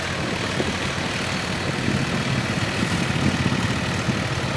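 A Massey Ferguson 7250 DI 50 HP tractor drives a 7-foot rotavator, its engine giving a steady, loud, low rumble that holds evenly throughout with no speech.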